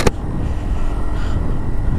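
An Aprilia SR160 scooter accelerates hard with the throttle opened, a loud, steady engine drone building over about two seconds, with a sharp click at the start and no voices.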